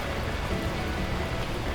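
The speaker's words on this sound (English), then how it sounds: "the heavens opened up, unleashing torrential rain" Torrential rain pours in the video game Beacon Pines as a dense, unbroken hiss of downpour, loud and even throughout with no pauses.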